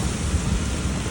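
Heavy monsoon rain pours down in a dense, loud, unbroken roar, close by with no voices over it.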